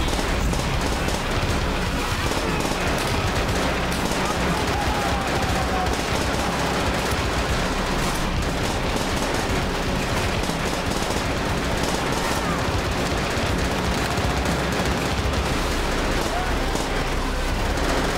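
Enemy gunfire in the World War II shooter World at War: dense, continuous machine-gun bursts and rifle shots rattle on without pause for the whole stretch, loud and close against a busy battlefield din.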